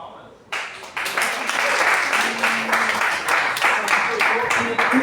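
A crowd breaks into sustained applause, loud and steady, with many hands clapping at once and a few voices faintly mixed in.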